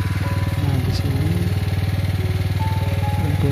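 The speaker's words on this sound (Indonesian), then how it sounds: "orang tua saya menggunakan mesin pompa air" A gasoline-powered water pump engine used to irrigate a rice field runs steadily close by, with a loud continuous rapid chugging putter that holds an even rhythm throughout, with no talk.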